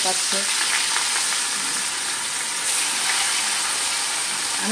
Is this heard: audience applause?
no